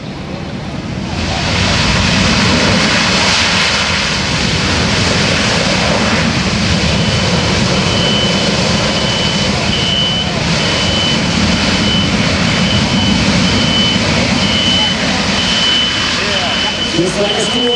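C-17 Globemaster III jet engines roar loudly at touchdown during an air show demonstration, a steady broad thundering wash with a whining tone. An announcer talks over it.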